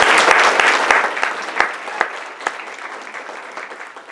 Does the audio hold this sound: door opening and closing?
no